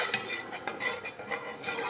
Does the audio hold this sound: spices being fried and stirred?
yes